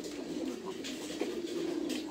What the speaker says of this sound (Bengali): একটু চলচল প্রকৃতির এই কবুতরটা।